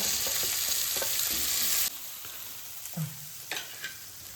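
Shallots sizzle and crackle in a hot frying pan, a loud close hiss that drops suddenly partway through, followed by a few scraping stirs of the utensil against the pan.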